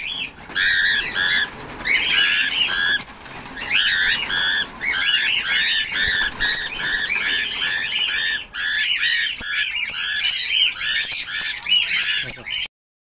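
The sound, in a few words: pet birds squawking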